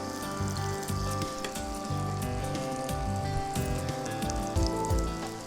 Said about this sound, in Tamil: நம்ம வந்து உருண்டையை போட்டு பொரித்து எடுத்துக்கலாம்.